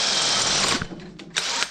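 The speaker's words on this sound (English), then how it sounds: "So what we're going to do is drill a hole for the wastegates." A hole saw whines steadily as it cuts into an exhaust pipe for a wastegate on a twin-turbo Ford F100. Close and loud, it cuts out, then comes back in short bursts.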